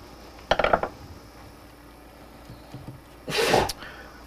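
A person sneezes twice nearby at a workbench where lead jig heads are being painted with powder paint, a short sharp sneeze followed a few seconds later by a louder, fuller one over quiet room noise.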